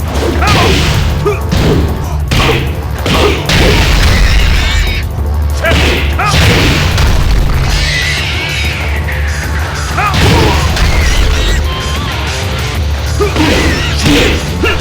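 Kazuya and Jin fight in Tekken 8. Dense game combat runs throughout: repeated smashing hits, thuds, booms and whooshing strikes, loud and continuous, layered over game effects.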